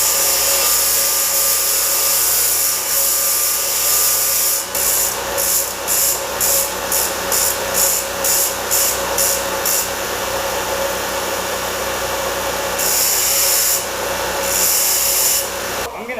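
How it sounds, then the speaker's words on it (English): Struck ends of blacksmith pritchels are ground, with a loud, continuous abrasive rasp from close by. Partway through, the grinding breaks into a quick rhythmic series of short passes, then steadies again, with a few more strokes near the end. "grind up the struck end on all these suckers"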